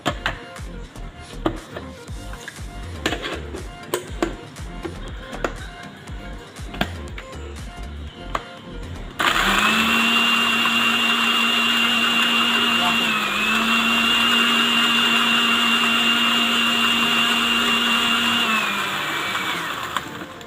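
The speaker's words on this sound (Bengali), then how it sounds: "এখন আমরা ব্লেন্ডার করব" A blender whirs steadily for about eleven seconds, blending yogurt and water into Old Dhaka–style shahi lassi, after an opening stretch of clattering kitchen sounds; the motor pitch holds a strong, even drone and dips briefly midway.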